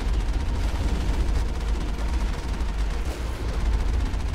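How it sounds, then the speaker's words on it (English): Big cannon fire in the video game Mass Effect: a dense, continuous rumbling barrage of heavy booming shots, loud and sustained with no pauses or talking. "Just gonna shoot it with the big cannon every time it's up"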